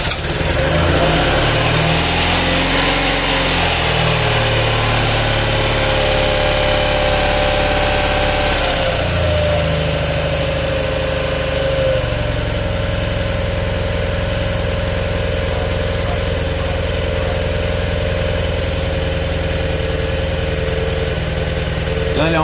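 A Citroën 2CV Type A air-cooled twin idles steadily with the choke still on, a loud, close, continuous buzzing chug that shifts slightly in pitch partway through.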